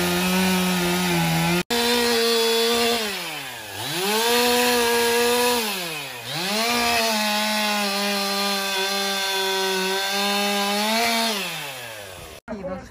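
A chainsaw cuts up a large tree above a backyard pool in Toronto's west end, with sawdust smouldering. The motor is loud and close, revving continuously, and its pitch sags twice under load before climbing back.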